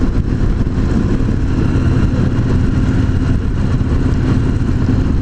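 A Victory Cross Country cruiser motorcycle on 21-inch wheels rolls along in fourth gear under 2,000 RPM at about 35 mph, a loud, steady engine drone blended with wind rush that holds constant throughout.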